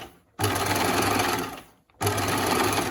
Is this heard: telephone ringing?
no